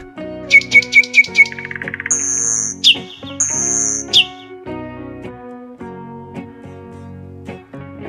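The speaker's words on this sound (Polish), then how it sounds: "Słowik." A nightingale sings a quick run of sharp repeated chirps, then high sustained whistled notes and trills, bright and close, over soft background music.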